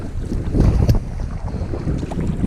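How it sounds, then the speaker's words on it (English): Steady wind on an open lake while canoeing in Algonquin, a constant rushing buffet across the microphone with low rumbling gusts and faint water slapping, loud and unbroken with no talk. "It's not a ridiculous wind and it's not very gusty, but it's just constant, right into your face."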